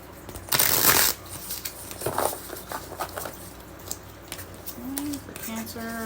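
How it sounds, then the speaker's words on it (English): A tarot card deck is shuffled: one loud riffling burst near the start, then softer scattered card handling and patting, with a brief voice sound near the end. "let's shuffle the deck."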